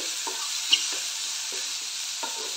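Mushrooms fry in a pan under a soft, steady hiss, broken by several faint, widely spaced stirring scrapes, with no voices.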